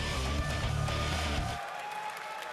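Crowd at a Major League Gaming StarCraft event cheers and claps for the player LiquidTLO, a loud burst of applause and shouting that drops off sharply after about a second and a half to a quieter murmur.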